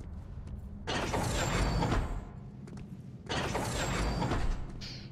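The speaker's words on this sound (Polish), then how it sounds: "O, i maszyna." A machine mechanism in the Q.U.B.E. 2 puzzle game runs in two loud bursts of grinding, whirring noise separated by a quieter stretch, with no talk.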